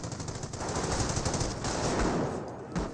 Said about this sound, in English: 30 cal set up in a good position there.